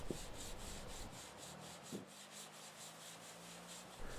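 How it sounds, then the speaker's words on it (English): Light hand sanding of a rubber window seal painted with liquid rubber spray, a soft steady rubbing hiss with faint rhythmic strokes, quiet and close, with no voices. "I chose to give these another light sanding to see if I could improve them any more"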